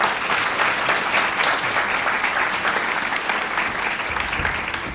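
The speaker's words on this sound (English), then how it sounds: "can we please give a round of applause for our two" A full round of clapping from an audience, dense and even throughout, with no voices standing out.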